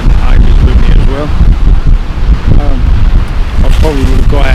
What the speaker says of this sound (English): Absolutely dreadfully windy today.